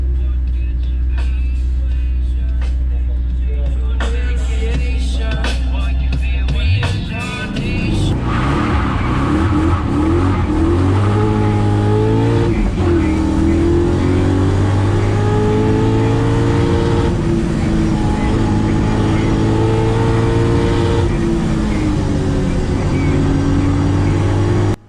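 A drift car at the Lučine hill climb, with a chock under the rear wheel, idles loudly and then revs hard to launch its run, its engine climbing and falling through repeated high revs with a voice speaking over it.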